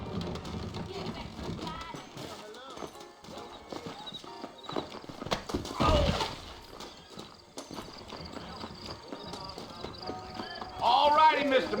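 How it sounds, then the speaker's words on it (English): Saddled horses in the video game Red Dead Redemption clip-clop along at a walk, hooves steady under ongoing dialogue, with a brief whinny midway and another horse call near the end. "I got the horses saddled up and ready out front."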